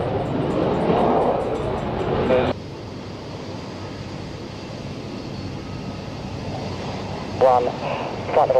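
German Air Force aircraft taking off at East Midlands Airport: after a few seconds of talk, a steady, broad, distant roar fills the rest, with brief voices returning near the end.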